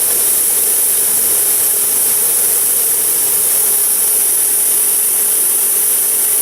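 An Accu-Cut 6SM-1 AccuBore boring machine spindle runs at 200 RPM, giving a steady, loud mechanical whir with a bright high hiss and an even, unbroken drone throughout.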